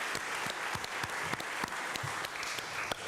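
An audience at a League of Women Voters candidates forum in Port Washington-Manhasset applauds. The clapping is steady and sustained from a modest crowd, moderately distant and filling the room, with a few sharper individual claps standing out.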